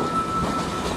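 A Czech Railways train at Brno main station gives a brief, steady, broad rumble of rolling rail noise, continuous and fairly loud with no voices.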